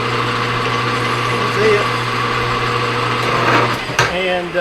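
A metal lathe turns a part in a shop, a steady mechanical hum with a constant low tone and light whirring, loud and close. Someone speaks briefly near the end as a short scrape comes through.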